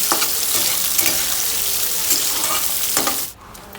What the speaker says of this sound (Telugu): పచ్చిమిరపకాయ, ఉల్లిపాయ కొంచెం దోరగా వేసుకుని